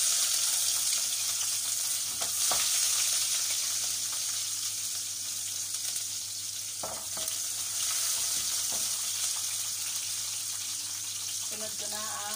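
Onion sautéing in a pan for misua egg soup, a steady close sizzle and frying hiss running throughout, with a few brief stirring clatters and a short tap-water burst near the end.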